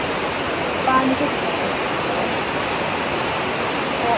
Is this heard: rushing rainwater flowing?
yes